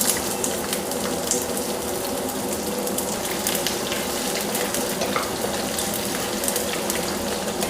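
Bay leaf, ginger and garlic frying in hot oil for a chicken stew, a dense, continuous close sizzle that stays loud and even with faint crackles and no voices.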